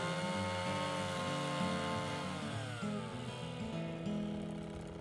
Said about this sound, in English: While drilling through the post, let the auger do the work.